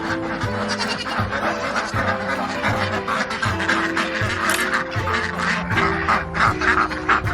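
A noisy chorus of ducks quacking constantly and close by, overlapping calls with goats bleating mixed in.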